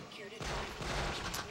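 Peacemaker energy gun firing in Jak II: a sudden loud blast with a dense crackling, rumbling burst that sustains for over a second, with a voice faintly under it.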